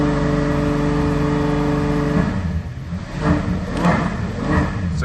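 A Ferrari GTC Lusso V12 with a failing alternator, its engine running at a loud steady idle and then climbing in a few moderate revs, heard close and without speech.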